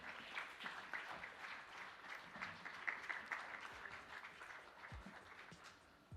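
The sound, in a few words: audience applause at summit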